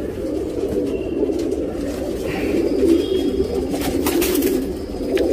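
A male Kathangu tournament pigeon coos continuously in a low, throaty rolling burble at close range. The cooing runs steadily throughout with no talking.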